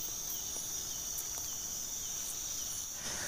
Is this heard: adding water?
no